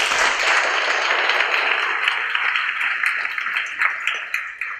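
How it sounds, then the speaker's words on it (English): Audience at an academic lecture on Southeast Asian postcolonial perspectives gives a round of applause, a dense, steady clapping wash from many hands that thins slightly toward the end. "Give a round of applause for that."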